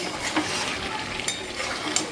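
Chicken curry with whole chillies frying in a pan: a low, steady sizzle with occasional scraping stirs and faint clinks, quiet and nearby, without talking.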